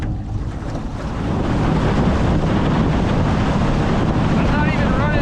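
A fishing boat roars across Lake Sinclair under half throttle at about 22 mph, engine drone and water rush blended with heavy wind buffeting the microphone, loud and continuous.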